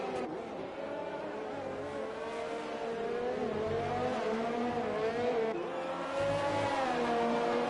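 F3 race car engine in iRacing at a Vietnam track with a low-drag setup: a sustained high whining engine note rising and falling through gear changes, with faint tyre noise through corners and no talk.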